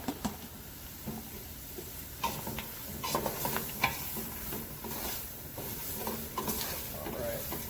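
Vegetables tumble into hot roux in a gumbo pot, giving a soft, hissing sizzle with scraping stirs and occasional clacks, fairly quiet and close, with faint voices in the background.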